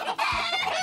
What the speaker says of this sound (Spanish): Este es un hermoso gallo viejo ya, de 3 años